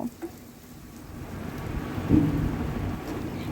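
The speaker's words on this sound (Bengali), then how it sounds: "এখন আমি পেঁয়াজটাকে বেরেস্তা করে ভেজে নেব" Sliced onions frying in a pan of oil for egg potato chop, a steady rain-like hiss that swells and grows louder after about two seconds, with a soft knock partway through.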